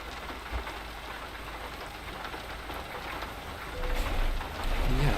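Rain drums steadily on a car's roof and windows, a dense, even patter heard from inside the vehicle that grows a little heavier toward the end.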